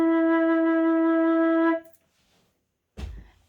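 Flute sounding low E, a note below the staff, held steady and clear with rich even harmonics for nearly two seconds, then cutting off into silence before a short breathy noise.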